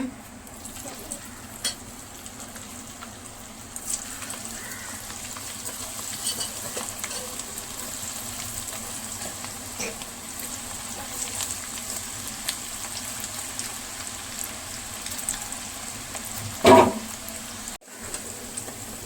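Cauliflower pakoda frying in hot oil, a steady low sizzle and crackle running throughout, with a brief louder burst of bubbling near the end.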